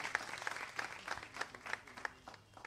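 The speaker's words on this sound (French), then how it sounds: "On applaudit très fort." A small audience claps at a quiz contest final, quite distant and soft, with distinct claps in a loose, fading rhythm.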